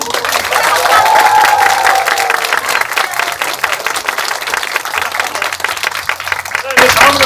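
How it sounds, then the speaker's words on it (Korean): Theater audience claps and cheers at a curtain call in a small Seoul art hall, loud sustained applause from a packed room lasting several seconds, with a brief shout or voice rising near the end. "큰 박수"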